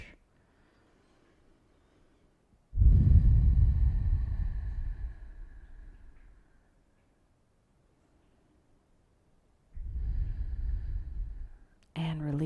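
A slow, deep breath in and out during a yoga stretch for golfers: one long, breathy rush lasting several seconds, a quiet pause, then a second shorter breath, close and clear.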